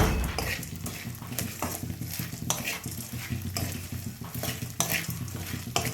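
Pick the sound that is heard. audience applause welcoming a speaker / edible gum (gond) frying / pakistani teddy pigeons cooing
edible gum (gond) frying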